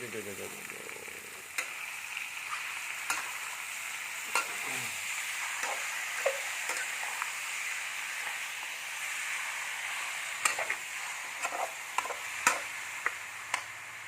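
Garlic frying in hot oil while being stirred, a steady close sizzle with scattered light scrapes and ticks of a utensil against the pan.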